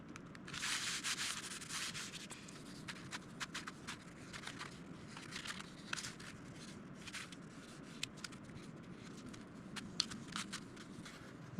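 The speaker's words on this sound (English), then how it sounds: "I sanded the balsa right down to where I could just see the 1/64 ply." Balsa wood being sanded down over 1/64 ply on an RC plane build, with soft, steady rasping strokes and a few sharper scrapes throughout, quiet and close with no talking.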